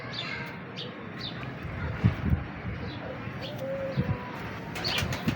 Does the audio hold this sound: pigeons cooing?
yes